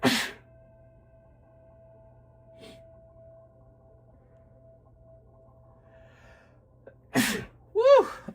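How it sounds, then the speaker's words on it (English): One sharp, loud sneeze bursts out near the end after a long, quiet stretch with a faint hum, followed by a brief whooping vocal sound. "Hold on, I gotta sneeze real bad."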